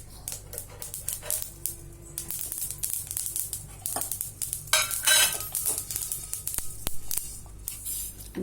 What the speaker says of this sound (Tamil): நம்ம வெறும் எள்ளை ஒன்றே வறுத்துக்கிறோம்